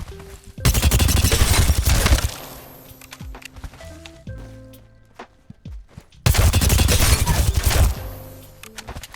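Bursts of automatic weapon fire in the Apex Legends shooter game, two long dense rapid volleys separated by quieter clinks, thuds and footsteps, loud and close with no talking.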